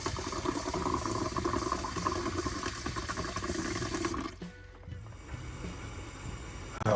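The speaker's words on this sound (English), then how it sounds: "Hot water's on." Water heating for morning coffee inside a van, a steady rushing, bubbling hiss that holds evenly for about four seconds and then drops away to a quieter background with a few faint clicks.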